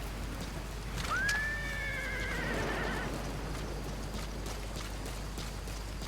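A horse in Metal Gear Solid V whinnies once, a rising then falling neigh in the middle, over a steady bed of soft rain-like background noise.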